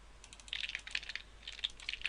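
Code is typed on a computer keyboard in soft, close clicks that come in quick irregular bursts against a quiet background.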